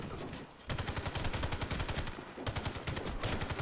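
Rapid automatic fire from a Scar-L PDW rifle in the video game Warface rattles out in loud sustained bursts, broken by a short pause, with no talking over it.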